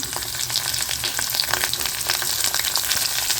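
Onion, chillies and tamarind fry in a pan for spicy garlic chutney, making a loud, close, steady sizzle with crackles and occasional stirring scrapes.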